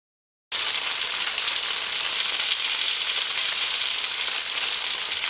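Spare ribs fry in a hot pan, a loud, continuous close-up sizzle that starts abruptly after a moment of silence and holds steady throughout.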